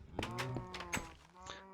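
Cows moo in the Minecraft Bedrock Edition video game, three short, tonal lowing calls in quick succession, close and fairly loud with no talking.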